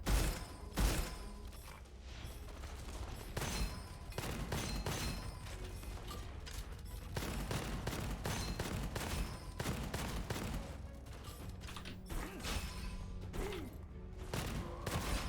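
Rapid, continuous bursts of gunfire fill a video game firefight, with dense rattling shots and mechanical clicks repeating loudly throughout, with no voices.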